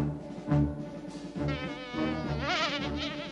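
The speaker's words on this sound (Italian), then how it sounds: "Un'ape!" A cartoon bee buzzes in a dubbed Italian animated episode, a continuous wavering, whining drone that swells and dips in pitch, loud and alone over dense, busy background sound.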